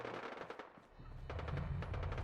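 Bursts of rapid automatic gunfire in the post-apocalyptic video game Fallout 4, rattling volleys in quick succession with a brief lull midway before heavier, denser firing resumes at a fairly low level.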